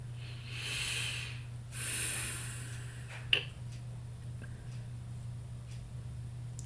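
Two slow, deep breaths hiss in and out close to the microphone over a steady low hum, followed by a sharp snort-like puff and quieter breathing.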